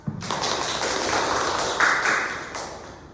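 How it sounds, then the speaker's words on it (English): Audience applause after a student's debate speech in a school panel discussion, a dense sustained patter of many hands at moderate distance that swells, then slowly thins toward the end. "Give applause."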